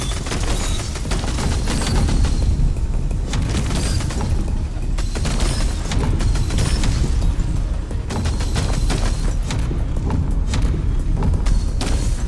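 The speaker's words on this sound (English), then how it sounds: "I get two guns and I can shoot like fucking crazy" Rapid, continuous game gunfire from two guns firing at once in the VR shooter VR Invaders, a loud, relentless stream of shots and thuds with brief dips, no talking.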